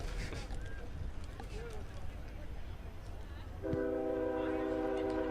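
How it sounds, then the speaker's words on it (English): A train passes near an outdoor college rugby match, its rumble running steadily under the field noise before a loud, sustained horn blast comes in near the end. "Just in time for the train to pass by."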